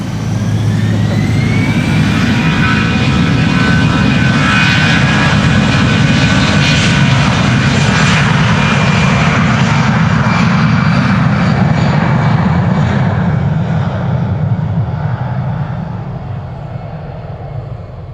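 Boeing 777 jet departing Amsterdam Schiphol Airport: a loud, sustained engine roar with a rising whine, holding strong before easing off slightly at the end.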